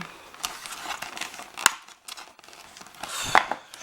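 Scissors snip through packaging on a Barbie City Shine doll, a few sharp crisp cuts with crinkling plastic between them, close up and with no talking.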